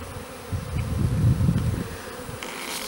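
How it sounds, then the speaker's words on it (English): Swarm of honey bees droning steadily outdoors in early spring, a dense low hum that swells louder through the middle and continues without any talking. "You can see that we still have a lot of bees sitting down up high."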